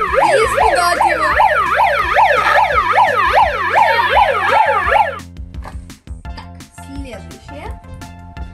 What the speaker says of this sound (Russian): Включить сирену и испугать его.